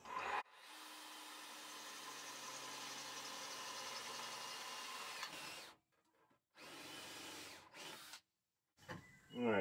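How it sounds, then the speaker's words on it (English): A power drill with a titanium nitride bit whines steadily as it bores holes in a wood board for a sawmill, stops, then runs again in short bursts, close and fairly loud. "And this drill bit's working pretty good."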